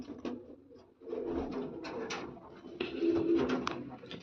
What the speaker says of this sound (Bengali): এই দুটো আন্ধ্রা পায়রা বাঁধলাম ফটকা টাইপস